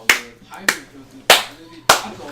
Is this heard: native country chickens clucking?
no